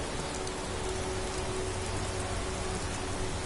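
Steady, even rain hiss from the game Skyrim, falling in the Reach near muddy slopes and steps, a constant broadband wash with no thunder or voices.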